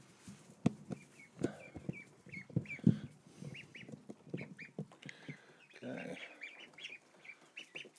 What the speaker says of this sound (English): Ducks are coming in.